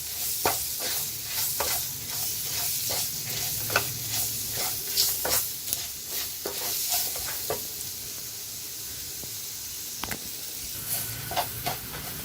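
Sambar ingredients sautéed in a pan for a South Indian sambar, with a steady sizzle and hiss under repeated scraping stirs of a spoon, close and fairly loud, with no voices.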